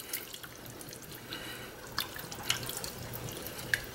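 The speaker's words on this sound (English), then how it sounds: "we're going to just whisk that all together" A whisk works through a can of tomato paste loosened with a can of water, giving soft wet stirring and faint liquid swishes with a few sharper clicks, quiet and close by.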